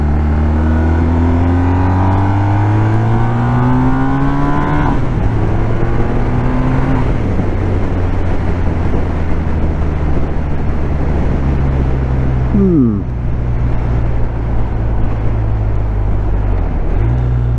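A BMW R1250R HP motorcycle on a first ride, its boxer engine droning loudly and steadily as it rises through the gears, with gear changes and a sharp downshift, heavy wind rush around it.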